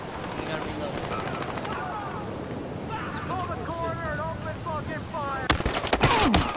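Gunfire in Battlefield Hardline breaks out late as a sharp cluster of loud shots and bursts, following a stretch of muffled game ambience with voices talking underneath.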